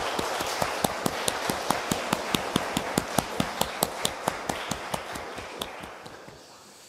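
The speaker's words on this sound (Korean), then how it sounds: "우리 귀한 찬양을 들려준 우리 기태 형제에게 우리 박수 한번 다시 할까요" A church congregation at a Sunday service of a Paris Presbyterian church applauds, with a continuous wash of clapping and evenly spaced sharp claps that fade out at the end.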